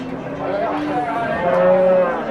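Cows at a livestock bazaar give a drawn-out, close moo lasting a couple of seconds, with faint crowd murmur behind.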